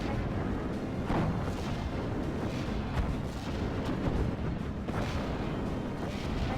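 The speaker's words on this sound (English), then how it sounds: "You get the barrage not being reined in." An artillery barrage in the Steel Division 44 World War II strategy game: a dense, continuous rumble of overlapping booms and blasts, with a few sharper bursts standing out, loud and without talking.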